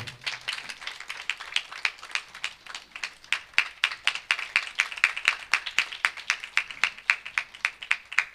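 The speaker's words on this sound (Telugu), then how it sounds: "మనం అందరం చప్పట్లు కొట్టి ఈ యొక్క సమయంలో" Audience applause at a Christian library dedication ceremony at a Bible college in Eluru, steady rapid clapping from many hands, moderately loud and sustained throughout with no talk over it.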